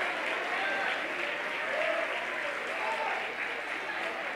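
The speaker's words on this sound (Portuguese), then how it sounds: "Pode aplaudir, igreja" A church congregation applauds in steady, sustained clapping that fills the room evenly throughout, with a faint murmur of voices mixed into the crowd noise.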